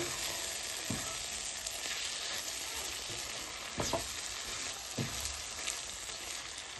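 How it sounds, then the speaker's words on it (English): Steady crackling sizzle of potato chips frying in hot oil, continuous and close, with a few soft clinks and stirring knocks. "And move on to frying your chips."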